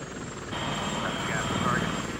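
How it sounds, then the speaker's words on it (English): Apache attack helicopters carrying Hellfire missiles fly at night, their steady rotor and engine drone continuous and fairly loud, swelling slightly halfway through, with talk over it. "8 Apache helicopters laden with Hellfire missiles took off towards Iraq."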